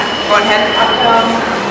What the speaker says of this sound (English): Ended up totally taking the wrong subway, but I took the right one.